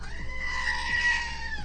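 A goat gives a loud, drawn-out, human-like scream that carries through the whole short moment, with faint thumps underneath.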